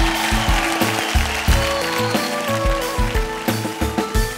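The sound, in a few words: audience applause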